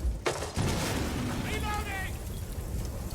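Gunfire in an esports match of a tactical shooter game, with a sharp burst of shots near the start and further game sounds behind a caster's excited commentary.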